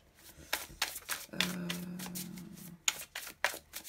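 Tarot cards being shuffled during a reading before one is drawn: a close run of soft papery riffles and flicks that comes and goes in short bursts, with a steadier stretch of sliding in the middle.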